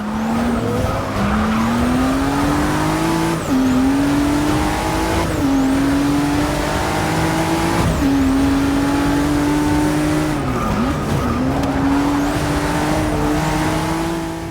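A race car engine screams at high revs around a circuit in Forza Motorsport 6, loud and continuous, with pitch climbing through the gears and dipping at each shift, plus occasional tire squeal in the corners.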